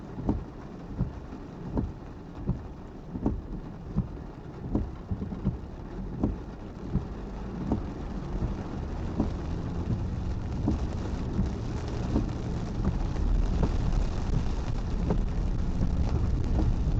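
Steady rain falls on a street corner in Annapolis, with soft low rumbles of thunder mixed into the wash and a few sharp drip or tap hits early on; the downpour swells slightly louder toward the end.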